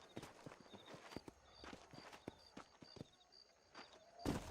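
Horse hooves clip-clopping in the Western video game Red Dead Redemption, a series of spaced hoof strikes at a walking pace, fairly faint, followed by a brief louder snort or neigh at the end.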